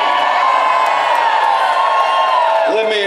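A rally crowd at a tax march screams and cheers in a steady, loud roar that stays dense throughout, with no gaps.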